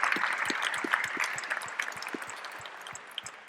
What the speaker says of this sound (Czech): a to chce skoro fakt potlesk